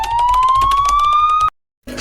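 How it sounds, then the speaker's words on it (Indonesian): An ambulance siren arriving, loud and close, with a steadily rising wail over rhythmic pulsing for about a second and a half before cutting off abruptly, then a brief burst of noise. "ambulans datang"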